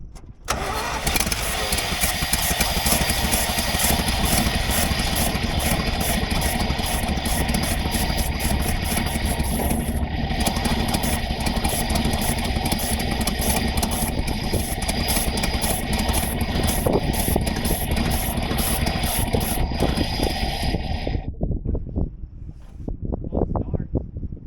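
A 1983 Chevy C20 truck engine cranks and fires, then runs at a steady, loud idle for about twenty seconds before shutting off, with voices talking faintly over it.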